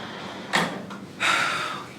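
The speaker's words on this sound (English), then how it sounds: "Oh, this door is heavy as hell." Heavy bathroom door at an influencer event, heard close up in two bursts, a short swing or thud then a longer scraping sweep as it moves, with no talking.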